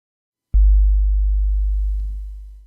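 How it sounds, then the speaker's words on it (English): Deep sub bass tone from a hip hop mix's sub track, played solo with the kick muted: a sudden steady low hum that starts sharply, sustains for about two seconds, then fades out, loud and alone. "that's what we're adding, is that really low hum"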